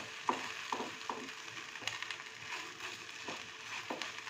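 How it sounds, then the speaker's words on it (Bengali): A spoon scrapes and stirs bread upma in a frying pan, sweetened with sugar after sour curd went in, making a few quiet clinks and scrapes over a low sizzle. "এবার এটাকে ভালো করে আবার নেড়ে নেব।"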